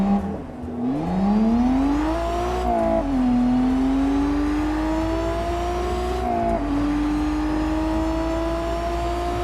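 A Toyota 3.5-litre supercharged V6 in Test Drive Unlimited Solar Crown revs hard through several rising gear pulls, its supercharger whine sitting loud and close over the engine, with brief dips at each shift.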